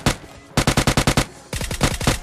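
Rapid automatic gunfire in a battle royale video game, several loud bursts of evenly spaced shots with brief pauses between them, close and sharp, with no talking.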